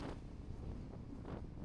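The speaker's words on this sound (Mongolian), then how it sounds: "Гадаа маш их салхитай." Strong wind outdoors at a lakeside resort buffets the microphone with a continuous low roaring rumble that stays loud and steady throughout, with no voices.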